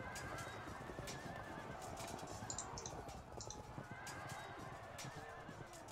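Horses of horse archers neigh and whinny in the strategy game Field of Glory II, with repeated shrill calls over a busy battle bed of sound.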